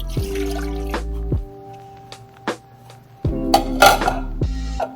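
A cup of water is poured from a vessel for homemade brown sugar syrup, with splashing and dripping close by, broken by hard clinks of the cup and pan.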